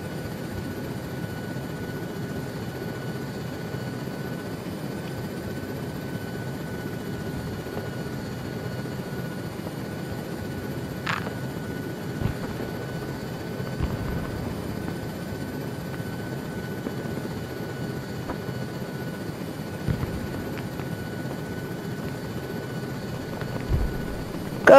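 A helicopter in the video game Arma 3 (S.O.G. Prairie Fire) gives a steady, droning rotor and engine hum throughout, with a few faint thumps and clicks.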